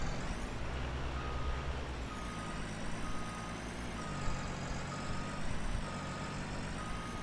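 A Huddig backhoe in Farming Simulator 19 shifts trailers about with a steady diesel engine drone. A high reversing beep repeats over it, with brief hisses and clanks from the machine.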